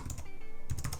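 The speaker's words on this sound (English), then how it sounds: "Oops, I must have typed it wrong." Close, crisp keystrokes on a computer keyboard tap out a password in a quick, irregular burst of clicks.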